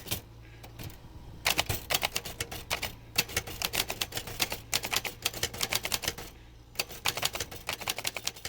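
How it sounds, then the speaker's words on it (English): Rapid, irregular clatter of typewriter keys striking, in bursts with brief pauses, close and fairly loud against a low steady hum. "Duane Jensen fixes typewriters."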